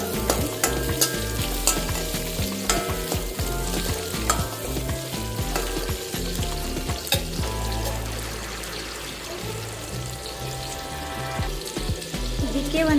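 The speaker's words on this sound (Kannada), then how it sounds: "ಮೀಡಿಯಮ್ ಸೈಜ್ ಒಂದು ಈರುಳ್ಳಿ ಫ್ರೈ ಮಾಡ್ಕೊಳ್ಳೋಣ" A medium-sized onion fries in a pan with a steady, loud, close sizzle, with stirring scrapes and clinks scattered throughout and no talk.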